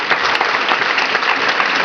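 Audience applause for the sound and light technicians at a Cossacks show in Longeville-sur-Mer: dense, steady clapping from a crowd, loud and close, filling the whole stretch without voices.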